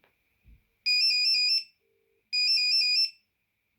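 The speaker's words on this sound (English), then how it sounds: "Should ring now." An Alcatel BC2 mobile phone rings with two bursts of a shrill electronic warbling tone, each close and loud, separated by a short silence.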